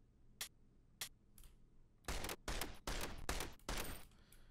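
Pistol shots in the video game Zombie Party: a few faint, spaced single shots, then a loud quick string of about five or six sharp bangs in an uneven rhythm.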